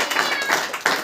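A congregation at a church meeting claps hands together, a dense patter of claps with several stronger bursts, close and fairly loud over about a second.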